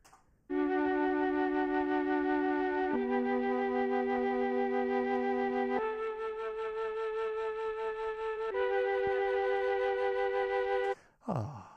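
A breathy sampled flute tone plays four sustained notes in a slow sequence, each held about two seconds, steady and clear with no talking.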